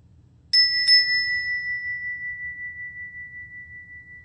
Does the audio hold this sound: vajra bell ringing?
yes